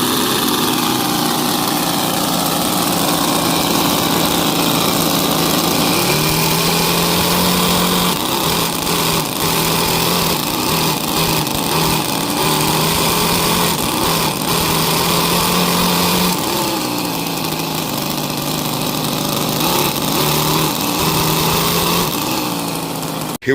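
A small nitromethane-fuelled, supercharged V-8 engine in an RC boat runs continuously and loudly, with a buzzing high-revving note that shifts pitch as the throttle is worked, heard up close with no talk.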